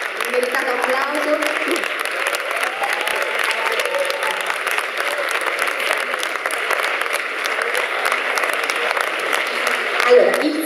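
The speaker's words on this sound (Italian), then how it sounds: "si becchi un meritato applauso" An audience at a queer film festival award presentation applauds filmmaker Lorenzo Giorgetti, steady dense clapping continuing evenly for the whole stretch with a faint voice underneath.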